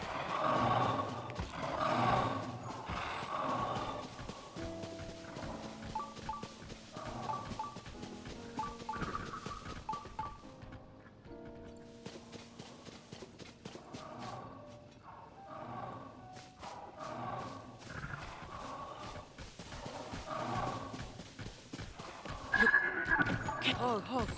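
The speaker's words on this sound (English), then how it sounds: "Is that the skeletal horse?" Hollow, rattling hoofbeats of a skeletal horse in The Legend of Zelda: Tears of the Kingdom clop steadily beneath layered game music and effects, with a voice talking over the top throughout.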